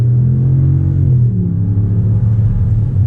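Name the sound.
2019 Ram 1500 truck with 5.7 Hemi V8 accelerating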